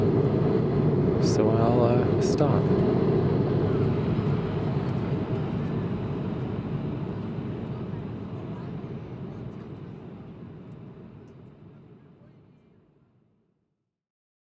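Steady airplane cabin engine roar in flight, a broad low rumble filling the cabin, loud at first and slowly fading away toward the end, with brief quiet speech near the start.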